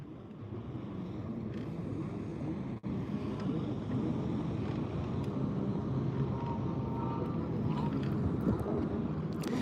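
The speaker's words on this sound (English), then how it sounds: "look at these jet skis out here going crazy" Jet skis run out on the water near a bass-fishing spot, a steady broad roar of engines and wind filling the whole stretch without a break.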